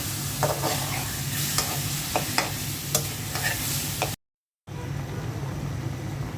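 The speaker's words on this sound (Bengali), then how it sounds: "মাছের মাথা লেজ দিয়ে দিলাম, ভালো করে কষিয়ে নিব" Fish head and tail frying with spices in a pan, sizzling loudly and steadily while a spoon scrapes and stirs with sharp clinks; the sound briefly drops out partway, then returns.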